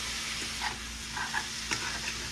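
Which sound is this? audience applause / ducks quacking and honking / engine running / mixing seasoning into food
mixing seasoning into food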